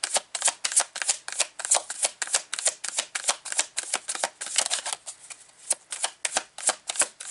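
Tarot cards are shuffled in a quick, continuous riffle of papery slaps and flutters, close and crisp, with brief uneven pauses between bursts and no talking.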